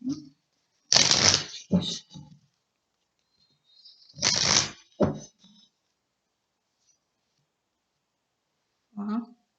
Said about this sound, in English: Just be patient with me as I pull a few cards for you.